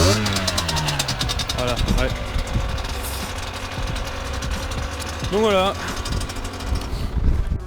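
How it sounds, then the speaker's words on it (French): Rieju Tango 50cc motorcycle with its engine running, a loud close buzzing idle with rising revs and knocking pulses, heard under someone talking. "On n'entend pas souvent des petites 50 comme ça qui font ce bruit là."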